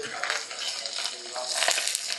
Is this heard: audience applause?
no